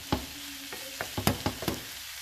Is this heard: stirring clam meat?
yes